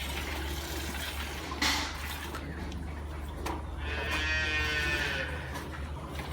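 A dairy cow on a farm during morning milking, with faint low moo-like calls and soft livestock sounds over steady background noise, a brief bleating tone near the end.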